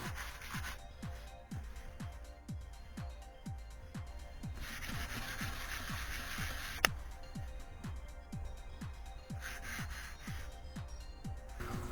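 Rhythmic back-and-forth sanding strokes, steady and close, on a primed 3D-printed Darth Vader helmet coated with glazing putty, repeating about twice a second for the whole stretch.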